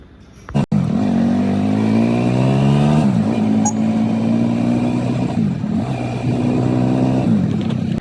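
After a sharp click, a motorcycle engine revs up and holds a loud, steady drone, its pitch climbing and dipping a few times close by.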